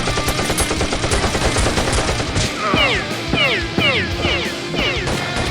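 Rapid, sharp popping shots from Nerf blasters in a staged foam-dart battle crackle in quick bursts, layered with chirpy whistling effects and background noise in the second half.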